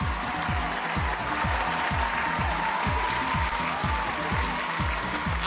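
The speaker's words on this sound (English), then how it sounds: "Give yourselves a round of applause." Dense, steady applause from a crowd in a live fundraising stream, holding at an even, loud level for the whole stretch, with a faint repeating low sweeping tone underneath.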